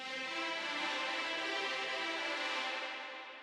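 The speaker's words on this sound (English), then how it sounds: "And with the EQ, it sounds like this." A held tone drenched in EQ-filtered reverb, with the deep low end thinned out, sounding cleaner and lighter, steady until it tapers off at the end.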